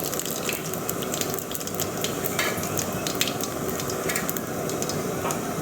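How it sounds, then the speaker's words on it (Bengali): Steady crackling sizzle of five-spice seeds, bay leaf and dried red chili frying in hot oil in a wok, continuous and close, with sharp pops scattered throughout. "তেজপাতা, শুকনো লঙ্কা ফোড়ন দিয়ে দিলাম"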